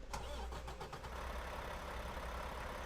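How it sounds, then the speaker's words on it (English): A Mack truck engine in American Truck Simulator cranks and catches, then settles into a steady low idle rumble, with no talking over it. "And it's a typical Mac engine."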